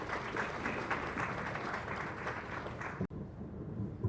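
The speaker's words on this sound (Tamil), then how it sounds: "கைத்தட்டிய மணிகண்டன் உற்சாகப்படுத்தியதற்கு மிக்க நன்றி." Audience applause at a film pre-release event in a hall, a dense, steady wash of many hands clapping that stops abruptly near the end, followed by quieter room noise.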